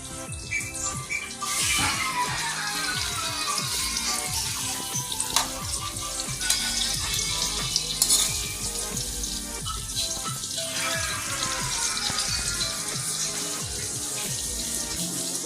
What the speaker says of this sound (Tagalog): nagluto ko ng daing. Prito.